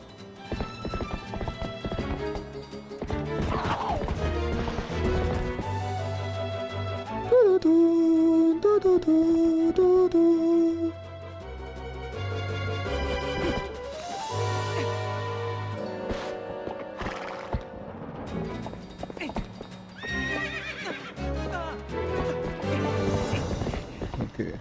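Galloping horse hooves and a whinny from the video game The Legend of Zelda: Twilight Princess on GameCube, heard amid game music and effects, with the steady clip-clop running through most of the stretch.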